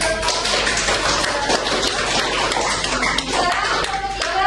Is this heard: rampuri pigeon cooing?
no